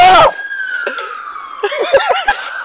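An ambulance siren wails with a long sweeping tone, fairly loud and close, while engine and traffic noise and garbled sounds play around it.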